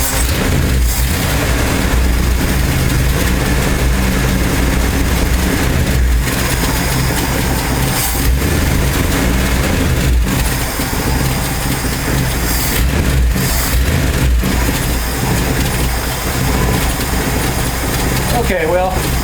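A 1968 Ford F250 with a 390 FE V8 and a newly fitted Pertronix Ignitor idles as it warms up after a flooded start, a loud, steady, unbroken engine drone lasting throughout.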